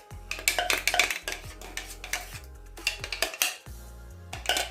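Ingredients for spicy ripe plantain kelewele being mixed in a bowl, busy clinking and scraping of a utensil against the bowl in quick uneven bursts with brief pauses, close and fairly loud, no talk.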